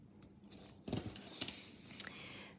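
Small thin scissors snip away excess trim from nail-art stickers and strips, giving a few quiet, brief cuts spaced apart with no one talking.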